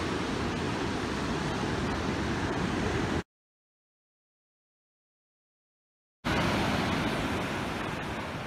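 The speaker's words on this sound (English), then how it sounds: "And the waves are like this." Ocean waves break steadily on a beach along the Algarve coast of Portugal near a hotel, making a dense, continuous wash of surf with a gap of silence midway, and no talking.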